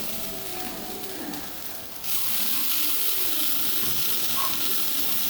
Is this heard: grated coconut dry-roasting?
yes